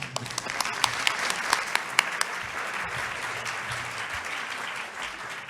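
Applause from an audience at a medical conference session, a steady dense wash of clapping with a few sharper individual claps standing out near the start, continuing evenly throughout.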